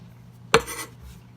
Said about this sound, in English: And then I like to give it a little extra chopping like that.